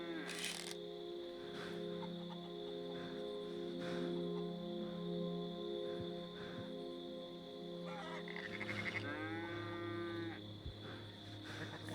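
Cattle moo in the Red Dead Redemption 2 video game, a low drawn-out call over steady ambient farm sound, with fowl-like honks and faint background voices.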